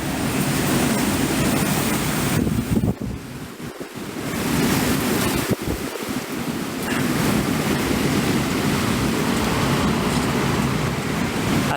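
Hurricane Melissa's wind roars in Jamaica, a loud continuous rushing blast buffeting the microphone, briefly easing twice before surging back.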